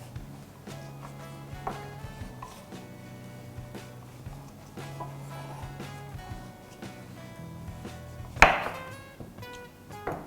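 A knife cuts a hard wafer cup on a board, a series of sharp, irregular knocks close by, with one louder crack near the end.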